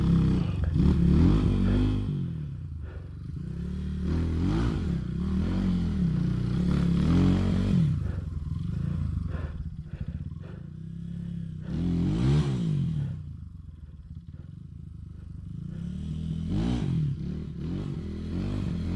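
Motorcycle laboring up a slippery mountain trail on Mt Tapulao, its engine droning and surging loudly through repeated throttle bursts with clattering and scraping underneath, no talk.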